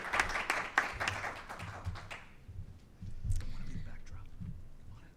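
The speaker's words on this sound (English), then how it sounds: "Let's give her another big round of applause while we hear from her." Audience applauding a newly introduced chief revenue officer at a Kentucky government briefing, a short burst of clapping that fades quickly into quieter room noise and murmuring.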